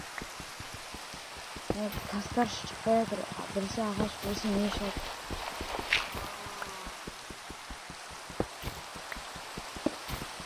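Rain in a video game falls with a constant hiss and scattered drip-like taps, while a person talks over it in the first half.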